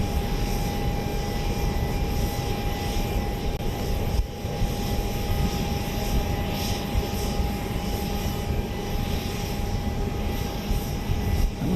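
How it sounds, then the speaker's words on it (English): JSX jet arriving from Austin at Dallas Love Field, a steady distant engine drone with a thin high whine running throughout, moderately faint and continuous with no talk. "Following up right behind it, we've got a JSX Flight 449 from Austin, Texas."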